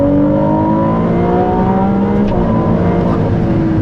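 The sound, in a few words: Maserati MC20 engine revving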